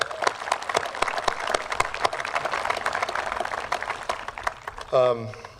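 A crowd at a public meeting about an Albuquerque baseball park gives a round of applause for the steering committee, steady dense clapping for about five seconds before a voice starts speaking at the end.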